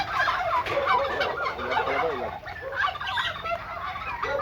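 A flock of ducks quacking close by, a busy stream of overlapping calls with no pauses and no talking.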